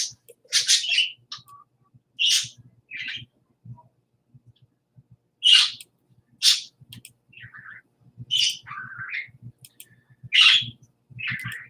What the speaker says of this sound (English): if you want, you just come in and you listen to the birds.